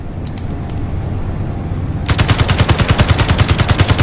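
A turret in the Space Engineers game opens up in a rapid automatic burst against a wall, the loud evenly spaced shots starting abruptly and continuing for about two seconds after a quieter background hum.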